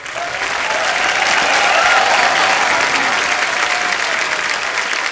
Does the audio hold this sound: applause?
yes